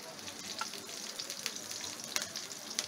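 Green chilies fry in about two tablespoons of hot ghee, giving a dense, steady crackling sizzle with a few brighter pops, close and continuous for a few seconds without any voices.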